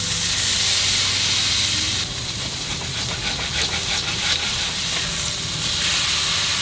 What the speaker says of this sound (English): Look how good they sizzle on that griddle grate.